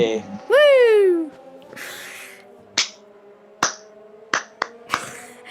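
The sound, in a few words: sarcastic hand clapping in background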